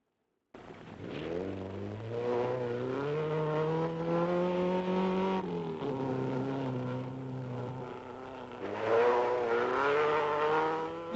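A Datsun rally car in the 1969 East African Safari Rally drives past. Its engine note rises and falls through gear changes, steady and fairly close, then swells again near the end with no talk over it.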